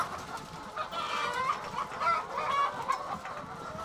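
Many hens cluck and murmur together at the laying nests of an egg farm, a dense, continuous chorus of soft calls with higher squawks rising over it.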